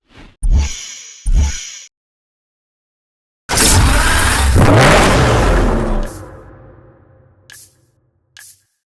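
Lamborghini Reventon Roadster engine in the racing game Need for Speed Hot Pursuit: two sharp revs, a pause, then one long loud rev that rises and fades, followed by two brief blips.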